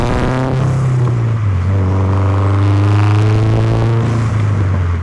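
A Subaru with an aftermarket turboback exhaust revs loudly on a downshift, its steady engine drone dipping then climbing again in a strong, continuous burble with no talk over it.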